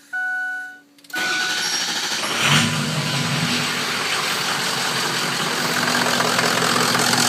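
A Ford Powerstroke diesel engine with poor repairs cranks and catches after a brief whirring hum, then runs steadily with rough injector clatter, close and fairly loud, with no talking.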